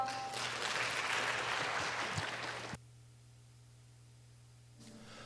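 Audience applause at a graduation presentation for Daegu Lincoln School, a dense burst of clapping for almost three seconds that cuts off abruptly, leaving a low hum and near silence.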